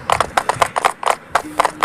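A horse gallops in the Roblox video game: a quick, rhythmic clip-clop of hoofbeats, fairly loud and close, repeating steadily for about two seconds.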